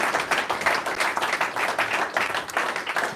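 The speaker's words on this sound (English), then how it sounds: "Big round of applause for Martin, please." Applause at a world championship trophy presentation: a crowd claps steadily and warmly, dense and continuous throughout, with no distinct voices.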